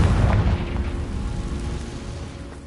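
A Confringo blasting spell explodes in the video game Hogwarts Legacy, one deep booming burst at the start that rolls off into a long, fading low rumble.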